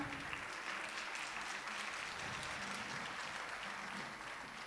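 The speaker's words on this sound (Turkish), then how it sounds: "Kocaman alkışlar hocam hoş geldiniz." Audience applause at a Turkish classical music choir concert: sustained, dense clapping from a large crowd fills the hall steadily and fades slightly at the end.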